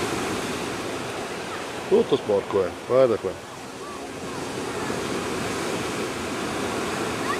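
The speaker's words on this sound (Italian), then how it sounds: "Guarda che onde, senza vento." Steady roar of sea waves and wind at Gizzeria on the Calabrian coast of Italy fills the recording, with someone briefly speaking in Italian over the constant surf.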